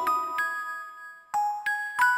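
Bell chimes from the Tokimeki Memorial 2 video game, the clock tower bell of the school legend, ringing in four clear struck tones with long sustained ringing decays, alone and fairly close.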